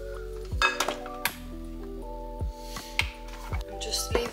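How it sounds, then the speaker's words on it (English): Dry baking ingredients with bicarb and sugar being mixed in a bowl, a utensil knocking and scraping against the bowl in a quick series of clinks, with a tonal ringing hum underneath. "Then just mix all of the dry ingredients together."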